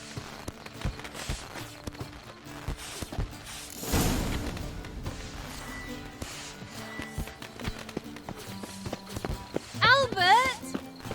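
Horse hooves clip-clopping in The Witcher 3, a steady run of light rhythmic hoofbeats under game music and ambience, with a brief musical flourish near the end.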